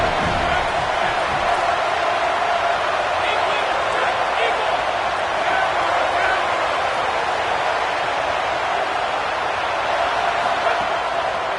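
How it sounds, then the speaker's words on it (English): Football stadium crowd at a Florida State versus Georgia game roaring on a third-down defensive stand, a dense, loud, steady wall of cheering and noise that never lets up. "Decibels rising as the crowd gets behind this defense on 3rd down."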